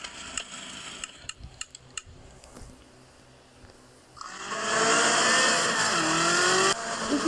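A 1981 DeLorean DMC-12 game mod car starts with a few scattered clicks, then its engine roars up into a loud, sustained rev whose pitch climbs steadily, heard up close.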